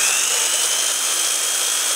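An old electric drill running steadily at close range, a continuous high-pitched motor whine with no voices, holding an even level throughout.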